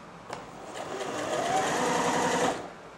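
A Janome 760 sewing machine runs steadily for about two seconds, a close mechanical whir with a rapid needle clatter that swells and then stops.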